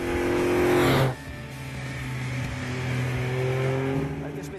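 A vintage Fiat Dino Spider, a 160-horsepower car, gives a loud rising engine rev that cuts off after about a second, then settles into a quieter, steady idle hum with tonal engine drone.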